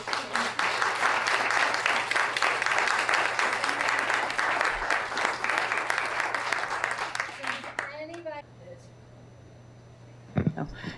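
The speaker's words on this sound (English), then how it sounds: "we need to do one big round of applause" An audience at a panel discussion gives a long, steady round of applause, dense and continuous for about eight seconds, then fades as talking begins under a low hum.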